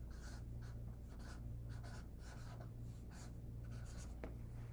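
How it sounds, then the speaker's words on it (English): Pen or marker scratching across paper in short, rhythmic strokes as the word squirrels is handwritten, close and quiet with no talking. "So I'm gonna write squirrels here."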